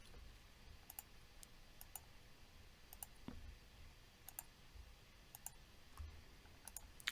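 Soft computer mouse clicks selecting materials in circuit-board design software, a dozen or so light, irregular taps spaced through a quiet room, some in quick pairs, with no talk.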